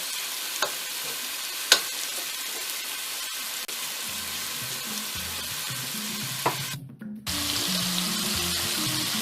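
Meatballs fry in hot oil in a pot, giving a steady, close, dense sizzle that continues throughout, with a few brief clicks and a short drop in the middle.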